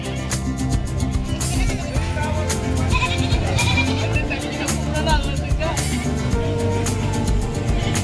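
Goats bleat over and over at a busy livestock market in Malasiqui, Pangasinan, with a steady babble of people talking around them.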